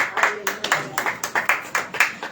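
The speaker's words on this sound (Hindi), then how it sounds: "ताली बजाएंगे सब जन" A church congregation at a worship meeting claps hands in a steady rhythm, about two claps per second, fairly close and moderately loud, with some voices mixed in.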